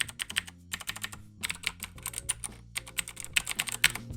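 Clicky mechanical keyboard typed in quick bursts, sharp bright clicks in rapid irregular runs separated by short pauses, loud and close with no voice.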